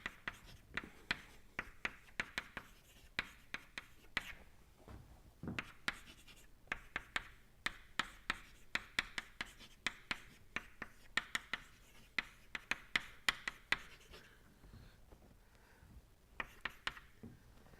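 A lecturer writes equations for a thermodynamics class, producing a close run of quick tapping and scratching strokes in uneven bursts with brief pauses between them.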